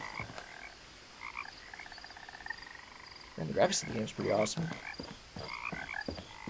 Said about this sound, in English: Frogs all around.